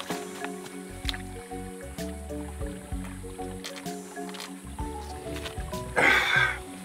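Ice-cold spring water flows from under the mountain at the old village of Niha in Batroun, Lebanon, dripping and trickling close by in an uneven patter, with a louder splash near the end.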